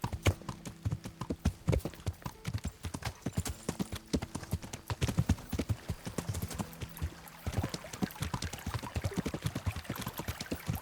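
Horse hooves galloping in the video game Kingdom Come: Deliverance, a rapid rhythmic clatter of clip-clop beats that runs steadily and loud for about eleven seconds, with a faint watery trickle underneath.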